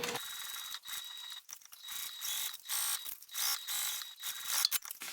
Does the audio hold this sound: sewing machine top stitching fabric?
yes